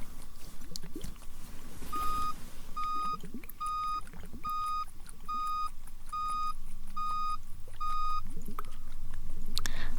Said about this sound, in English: The first of the beeps, here we go.